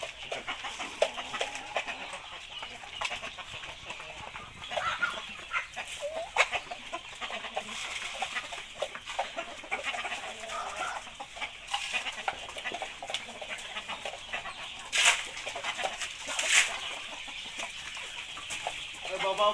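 Chickens cluck and squawk continuously nearby at feeding time, a busy, startled flock chattering with occasional louder alarmed cries over faint background voices.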